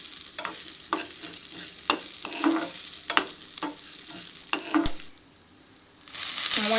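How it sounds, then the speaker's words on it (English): Green chilies frying in a pan for mint pulao, a bright close sizzle broken by repeated scraping stirs of a spoon, with no talk. "Now I am putting green chilies. Just fry them a little."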